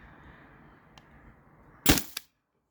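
A single sharp crack from a Byrna TCR less-lethal marker, loud and close, with a short rattling echo just after it and faint handling noise before it, then silence.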